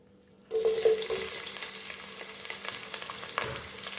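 Chopped onions hit hot oil in a pan for mushroom biryani, bursting into a loud, steady sizzle that holds evenly after a sudden start, with occasional stirring scrapes.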